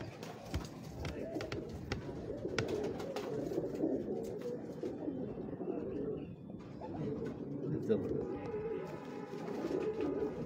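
Old-breed pigeons coo in a steady, low, overlapping murmur from nearby, with occasional wing flutters or footsteps and someone talking at times over them.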